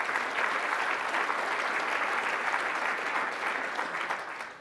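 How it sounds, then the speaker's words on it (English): A keynote audience at an outdoor recreation conference breaks into sustained, dense applause that stays loud and even for the whole stretch, with no talk over it. "So round of applause for Event Guard."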